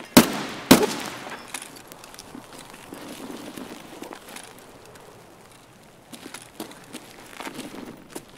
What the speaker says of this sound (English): Sounds like suppressed gunfire, does it not?